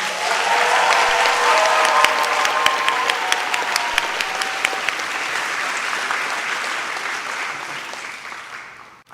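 Sustained loud applause from a large crowd at the opening ceremony of a political summit on Korea, honoring drummers, with a few sharp percussive hits early on and the clapping slowly fading toward the end.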